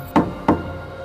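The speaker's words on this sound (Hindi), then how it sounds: "जैसे कोई बेड के नीचे से खटखटा रहा हो।" Two sharp knocks, as if rapped from beneath a bed, land about a third of a second apart and fairly close, each ringing briefly before fading into a quiet room; no voices.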